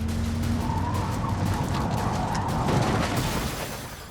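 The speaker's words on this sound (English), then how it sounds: "For a handbrake J-turn, you need a hand on the handbrake." A car's tyres skidding loudly during a handbrake J-turn, a sustained rough scrub over engine rumble that fades near the end, no voices.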